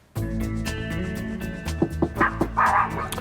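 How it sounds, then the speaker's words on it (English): A small dog lets out several quick, sharp barks and yips toward the end, loud and close over a sustained tonal background. "Oh, a nice little dog."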